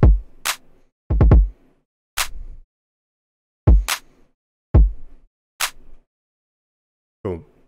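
Programmed drum pattern with a velocity ramp: sparse, punchy kick hits alternating with sharp snare or clap cracks, spaced irregularly with silence between, the hits varying in loudness.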